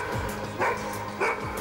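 A dog barks twice in short yelping bursts, moderately near, over a busy background of rumbling ambience.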